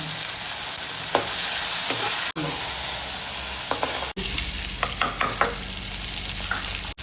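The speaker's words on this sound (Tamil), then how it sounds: "கத்திரிக்காய், தேவையான அளவு உப்பு போட்டு வதக்கணும்" Eggplant, tomato and salt sautéing in a pan, a continuous close sizzle with scattered scraping stirs and brief spoon taps, broken by a couple of short cuts.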